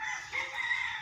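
A brief rooster crow, about a second long, rises from a small backyard chicken farm where the birds are moulting. The call is loud and sustained, with no talking over it.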